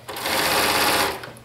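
A sewing machine set to a narrow zigzag and stitch length three runs a steady, loud burst of stitching along a leggings seam, stopping after just over a second.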